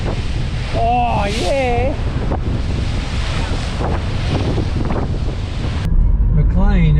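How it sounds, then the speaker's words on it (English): Big ocean waves surge against rocks near Yamba on the coast, a loud churning roar with heavy wind buffeting the microphone, a voice exclaiming briefly, and a final burst as the spray hits. "I got soaked by a wave on the rocks."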